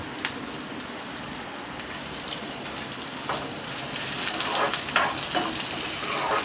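Chopped onions frying in a pan over a gas flame turned up high, giving a steady, fairly loud sizzle and crackle throughout, with occasional spitting pops and no talking.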